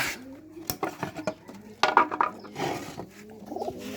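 Gula and Jalali breed pigeons give soft, close cooing calls mixed with sharp clattering knocks and rustling, in short irregular bursts.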